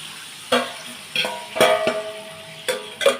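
Toor dal tipped into a pan of spiced masala for sambar, giving several sharp bursts of sizzling and frying with clattering stirs, close and fairly loud, no talk.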